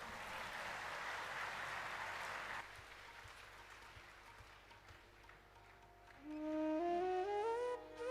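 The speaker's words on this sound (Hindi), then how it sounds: "एक बार बजाइए ताली इस पर।" Applause from an audience at a Hindu religious discourse on the Ram Katha, a dense, loud burst of clapping for the first few seconds that thins out, followed by sustained musical tones toward the end.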